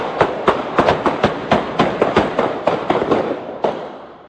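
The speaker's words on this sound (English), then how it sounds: "Without warning, gunfire erupted." Rapid burst of about a dozen sharp gunshots at night, loud and close, evenly spaced cracks firing over roughly four seconds with no voices.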